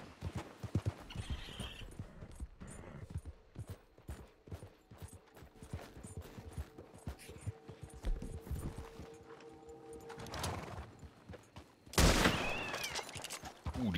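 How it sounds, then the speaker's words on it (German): Gunfire and horse hoofbeats in Red Dead Redemption 2 Online, a steady clip-clop of hooves with scattered shots and a loud burst of firing near the end. "Die Waffe hört sich auch nicht mehr so richtig gut an, finde ich"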